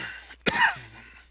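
A single sharp, harsh cough bursts out close to the microphone and fades into a brief raspy tail, with quiet around it.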